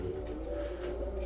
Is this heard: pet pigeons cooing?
yes